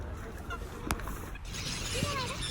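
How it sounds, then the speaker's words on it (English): Waterfowl on a crowded lake, with a few faint honks and calls heard over steady outdoor background noise. "So definitely these ducks are not swimming at this speed."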